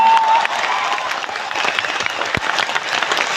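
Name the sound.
audience applauding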